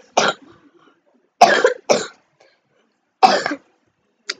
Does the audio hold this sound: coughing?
yes